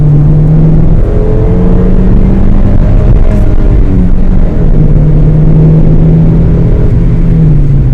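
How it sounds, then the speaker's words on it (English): A manual-transmission car's engine drones loud and steady at high revs after a downshift, with a strong low rumble and slight pitch shifts throughout, no voices. "I can either just press the gas or I can downshift it and have my RPMs go higher."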